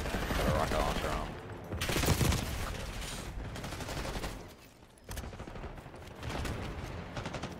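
Rapid automatic gunfire in Call of Duty Black Ops 6 multiplayer, loud dense bursts with brief gaps, set among busy battle noise.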